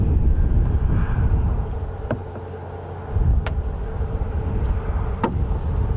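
Steady low rumbling wind buffets the microphone on an outdoor safari drive at sunset, easing briefly midway before resuming, with a few faint sharp ticks.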